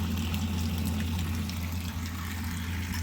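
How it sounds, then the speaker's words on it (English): Water running down the drains of an RV to flush bleach-sanitized water from the lines, a steady low pouring rush that continues evenly throughout with no talk. "we're just going to run some water down each of the drains until the nasty smelling water is gone"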